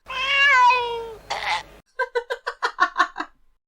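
A human voice imitates a cat for a comedy TV episode, giving a long wavering meow-like cry, a brief rough burst, then a rapid series of short choking, hiccupping yelps that fade out.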